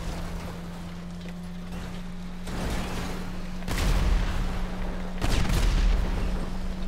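Gunfire in Grand Theft Auto V, with several heavy, booming shots and bursts standing out over a steady engine-like drone, rising in loudness toward the end and heard alone without talk.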